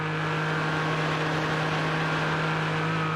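A Porsche GT4 race car engine in iRacing at Mount Panorama, a steady loud droning hum held at constant pitch throughout, with no talk.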